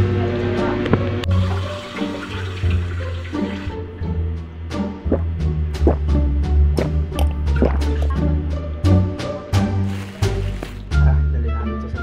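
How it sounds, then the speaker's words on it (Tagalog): Water is poured and then drunk, with drips, splashes and gurgling liquid over a steady low hum, and a few sharp clinks along the way. "inom lang tayo ng tubig"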